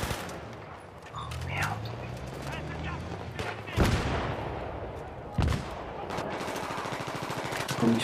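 Rapid gunfire and explosive bombardment fill a Battlefield 3 conquest-mode match, with sharp bursts of shots and heavy blasts over a constant battlefield rumble, loud and close.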